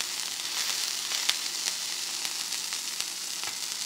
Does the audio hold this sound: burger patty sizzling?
yes